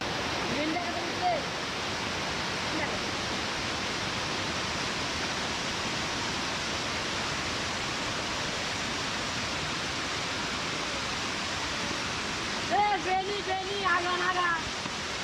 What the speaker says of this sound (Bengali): এটা হচ্ছে ছোট ঝর্ণা এই ঝর্ণাটার নাম হচ্ছে বাঘ বিয়ানি ঝর্ণা